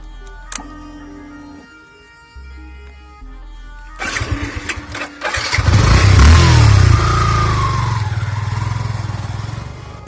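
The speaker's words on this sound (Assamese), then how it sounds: "তো এতিয়া হৈছে ষ্টাৰ্ট দিব লাগিব বাইকখন।" After a quiet stretch of soft tones, a motorcycle engine starts in Assam, then revs and settles into a loud, close, steady running rumble.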